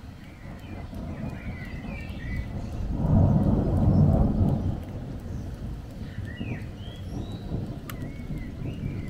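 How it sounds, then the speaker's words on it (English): Thunder rolls low and rumbling through a thunderstorm in Blackpool, swelling in the middle and fading, with birds chirping faintly in the background and a steady outdoor hiss. "At least we've had a taste of this little thunderstorm today."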